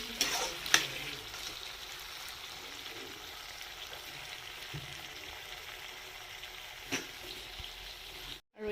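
Chicken frying dry in a hot pan hisses steadily while a spoon stirs it, with a few scraping knocks against the metal, up close and without any talking.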